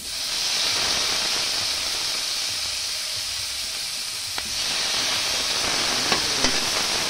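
Tomatoes sizzle steadily in a hot pan, a continuous close hiss with a few faint pops and clicks near the end, no one speaking.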